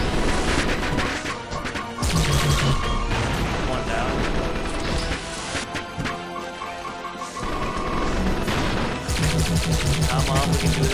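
Slow-motion gunfire in the video game Epoch, dense rapid shots and crashing impacts layered with metallic mechanical sounds and tonal effects, loud and busy throughout with brief lulls.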